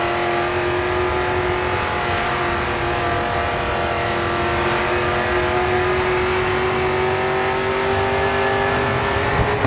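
Race car engines from the video game GRID 2 drone steadily and loudly throughout, with sustained revving and a rising pitch as the car accelerates to pass another racer.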